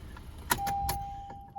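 A 2015 Honda Accord Sport with a newly installed battery runs at idle just after starting, a low steady engine hum with a brief clunk and a thin whine over it, heard close by without talk.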